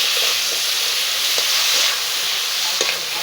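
Crab frying in hot oil left over from frying fish in a village kitchen, a loud continuous sizzling hiss with occasional faint pops, close and steady throughout.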